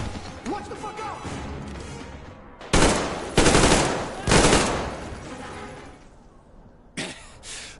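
Gunfire in Metro Exodus, three loud sustained bursts of automatic fire separated by brief pauses, then a final shorter burst, with shouting voices over the earlier stretch.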